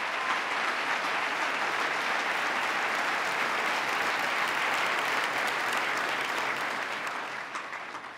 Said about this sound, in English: Give Akeem a big round of applause